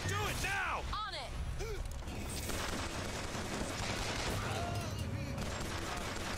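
Rapid bursts of gunfire in Bioshock Infinite rattle continuously in a dense fusillade, with whooshing effects and a voice mixed in.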